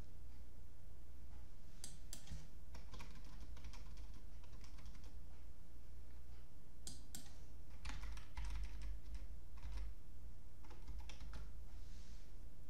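Fingers type an IP address on a computer keyboard, producing irregular bursts of close, crisp key clicks separated by short pauses, set over a steady low background hum.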